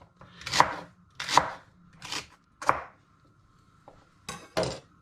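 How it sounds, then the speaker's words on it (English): A knife chops rhubarb firmly on a cutting board, six crisp strikes in an uneven rhythm, close and clear with quiet gaps between. "chopping them down into little pieces like this"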